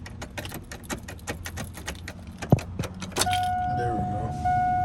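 Keys jangle in a sticking ignition of a Chevrolet Silverado as it is turned again and again, a run of close metallic rattles and clicks, then the engine starts and a steady tone sounds.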